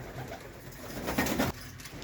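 Pigeons perched on a blue umbrella-shaped loft coo softly in a short, low burst, faint and close against quiet background noise.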